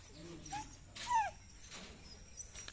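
Greyhound puppies give a few short, high whimpers and yips, close and faint, with quiet gaps between the cries.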